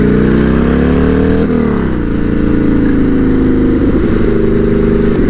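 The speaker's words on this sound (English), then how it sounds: "the sound of the bike is actually super reasonable" A turbocharged Buell M2 Cyclone motorcycle cruises with a loud, steady engine drone heard close up. The pitch dips and shifts slightly as the rider changes speed, and the sound carries on without a break.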